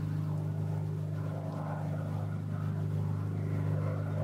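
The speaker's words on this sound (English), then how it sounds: "I'm hearing a plane right now." Near a campsite on Trail Ridge Road, an airplane passes overhead as a steady, humming engine drone that holds at an even level throughout, with no one talking.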